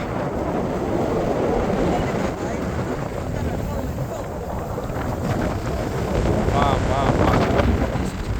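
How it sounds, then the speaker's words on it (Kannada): Strong wind buffets the microphone in a constant low roar at Azhimala Shiva temple, with water and boat noise underneath and faint voices now and then. "ಗಾಳಿ ಖರೇನೆ ಭಾಳ ಅಂದರೆ ಭಾಳ ಬಿಸಾತೈತಿ"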